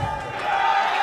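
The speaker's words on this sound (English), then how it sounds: "You hear the crowd start yelling and screaming" Badminton arena crowd at a Sudirman Cup 2011 men's singles match between Hong Kong and Poland yelling and screaming after a saved match point, a dense, steady roar of many voices over about a second.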